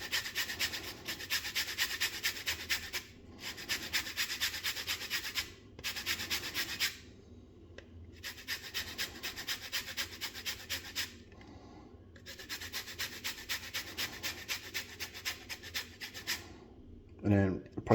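A lemon is zested on a microplane grater in steady rhythmic rasping strokes, several bursts separated by brief pauses, close and fairly quiet, ending with a soft knock.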